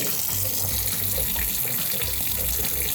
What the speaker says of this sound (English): open up your cold water inlet and check your burner pressure